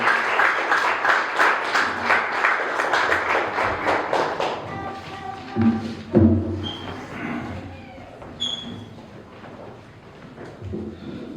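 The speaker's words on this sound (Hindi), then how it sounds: "सारे जन तालियां दे नाल खुदा दे कलाम दा रब दी दास दा स्वागत करें" A congregation at a Palm Sunday service in a Pentecostal church in Punjab applauds in a loud, pulsing burst for several seconds, then the clapping fades beneath tones and voices.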